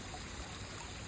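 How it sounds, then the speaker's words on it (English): A waterfall flows near trees in a steady, soft, even rush of water. It sounds faint and continuous, and no one talks over it. "it's right here at this waterfall"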